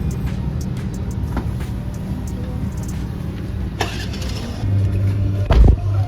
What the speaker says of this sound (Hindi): बोलते बोलते हमारी गाड़ी भी आ गई और हम चले टूर पे।